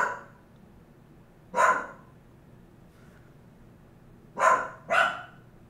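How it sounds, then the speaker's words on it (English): A small dog barks three times at close range indoors, with a single bark followed after a pause by two quick barks, and quiet room tone in between. "Yeah, Pixie's very barky."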